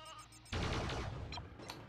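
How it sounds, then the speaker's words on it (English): Sheep bleats from a Toy Story video game, Buzz Lightyear to the Rescue, sounding as a sudden loud burst of game audio that starts partway in, followed by a couple of shorter bleat-like calls. "Okay, so we got another sheep."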